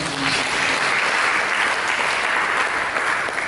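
A church congregation applauds in a steady, dense burst of many hands clapping that stays loud and even throughout, with only a faint voice briefly at the start.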